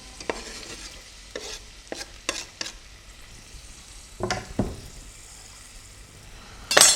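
Onion tipped into hot palm oil in a pot for a West African dish, giving a steady close sizzle with a handful of sharp scraping stirs and clinks of a utensil against the pot, no voices.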